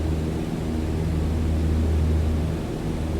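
Airplane engine in the Flight Simulator video game, a steady, droning hum with a constant low pitch and broadband hiss, holding evenly without talk.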